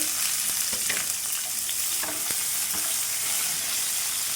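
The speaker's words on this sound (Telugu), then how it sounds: "మనకైతే ఈ మసాలా దినుసులు ఫ్రై అయిపోయి ఇందులోని ఒక ఆనియన్ కట్ చేసి వేసుకుంటానండి" Whole spices and chopped onion frying in oil in a pan for a ridge gourd curry, giving a steady, close sizzle with occasional stirring scrapes.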